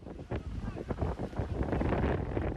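Strong wind buffeting a microphone at sea near a Greek island during a search for missing migrants from a wrecked boat; a steady, loud, rushing roar with gusty surges and no pauses.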